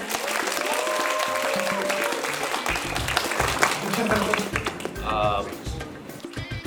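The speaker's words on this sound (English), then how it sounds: "Big round of applause for Anbino!" A crowd applauds with dense, steady clapping that carries on throughout, while voices talk and cheer over it.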